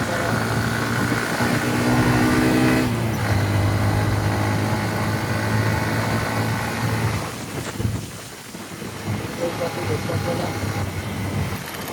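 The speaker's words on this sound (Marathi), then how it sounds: "गाडी चालवतोय" A Wagon R car drives through city traffic on a ride toward Pune, giving a steady engine hum with road and cabin noise throughout, shifting in tone partway as traffic changes, with speech heard over it.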